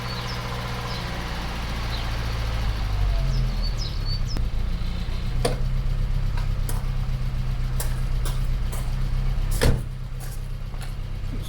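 A 1500 cc Austin Allegro 1500 Special engine idles steadily and close by with a deep low rumble, a few sharp clicks and faint bird chirps in the background, and one louder knock near the end.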